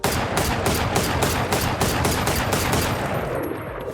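Rapid gunfire from a weapon in the tactical shooter Valorant fires in a fast, even burst of about a dozen sharp shots, loud and close, then stops abruptly near the end.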